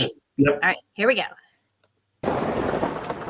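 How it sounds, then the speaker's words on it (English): Winter rain and wind in Southern Oregon, heard while driving: a voice speaks briefly, then a steady, dense rush of rain and wind noise fills the rest of the clip. "The rain, the wind"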